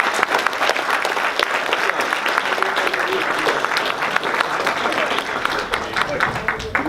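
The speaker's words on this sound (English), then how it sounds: "So let's give them a round of applause." Audience members at a city council meeting clap for honored individuals, producing sustained, dense applause at close range, with a few voices mixing in underneath.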